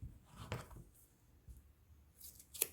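Scissors snip through thin paper strips at close range, a few quiet, soft cutting sounds spread across a short stretch with light handling noise between them.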